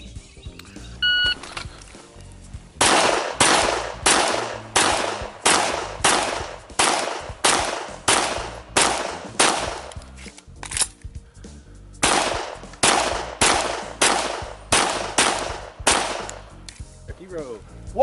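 Pistol shots ring out at an IDPA shooting match in two rapid strings of evenly spaced, sharp cracks, loud and close, with a timer beep near the start and quiet gaps between strings.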